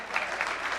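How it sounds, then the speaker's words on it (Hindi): Crowd applause at a public ceremony for a new bus stand with a chief minister present, steady and dense clapping from many hands throughout. "आदरणीय घनश्याम जी चंद्रवंशी जी के लिए जोरदार ताली बजाएं।"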